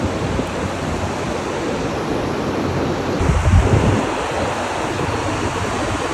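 Ocean surf washes steadily onto the beach at Cape Canaveral at night, as a continuous broad roar with a slightly louder wave surge in the middle and some wind noise against the microphone.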